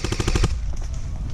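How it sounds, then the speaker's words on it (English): Airsoft guns fire in a rapid burst of about six sharp, evenly spaced shots during a game, loud and close, then stop, leaving faint background noise and distant activity. "they're shooting at us"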